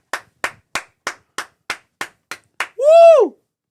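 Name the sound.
round of applause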